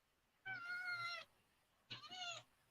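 A pet cat named Bear meows twice, two close, clear drawn-out meows about a second apart, fairly quiet, with no talking.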